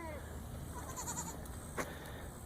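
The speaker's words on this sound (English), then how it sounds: "That's the two goats getting ready to go to the sale barn" Two goats crated on a farm before going to a sale barn, bleating briefly and faintly in short wavering calls over low background noise.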